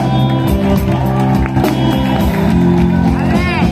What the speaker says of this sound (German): Ganz einfach mal einen kräftigen Applaus für unseren kräftigen Sugar